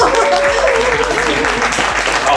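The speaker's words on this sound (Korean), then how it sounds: "박수 한번 주세요." Applause from a crowd at a whisky tasting, a dense continuous patter of clapping, with voices mixed in underneath.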